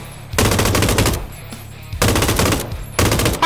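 Rapid automatic gunfire from the PS4 battle royale game PUBG, loud bursts of machine-gun fire in three separate volleys with short gaps between.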